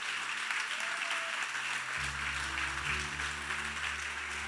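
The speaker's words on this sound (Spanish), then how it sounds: "Dale un fuerte aplauso." A church congregation claps in steady, loud applause throughout. Partway in, a low sustained organ or keyboard chord enters underneath the clapping.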